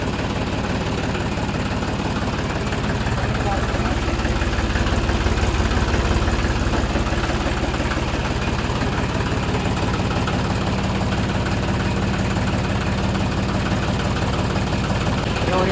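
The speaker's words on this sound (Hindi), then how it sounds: "ट्रैक्टर चालू, डीजल डाल दिया" A diesel tractor engine, started after sitting unused for three months, idles with a steady, loud, knocking rumble close by, unchanging throughout.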